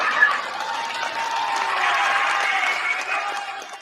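Applause during a Christmas Sunday radio suspense show, a steady, moderately loud wash of clapping and crowd noise that holds evenly for nearly four seconds before tapering slightly.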